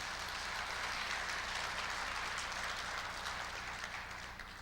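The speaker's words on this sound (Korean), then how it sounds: "박수 보내주세요." Audience applause at a university president's inauguration ceremony in a large hall, a dense, continuous wash of clapping from a big crowd, distant and soft, tapering slightly at the end.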